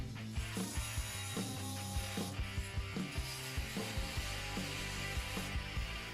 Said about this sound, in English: Here we see it cutting 4 nails to show off its metal cutting performance.